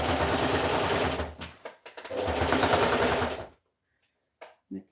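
A sewing machine stitches fabric in two fast, steady runs of close mechanical whirring, briefly pausing between them, then stops and leaves near silence with a couple of small handling knocks.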